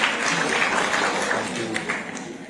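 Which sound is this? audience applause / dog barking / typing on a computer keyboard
audience applause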